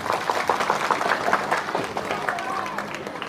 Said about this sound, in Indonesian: Mas, tepuk tangan, tepuk tangan.